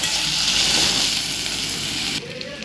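Ginger, garlic and chili paste sizzling loudly in hot oil with browned onions in a pan, a steady bright frying hiss that drops suddenly near the end, as if the pan is stirred or moved.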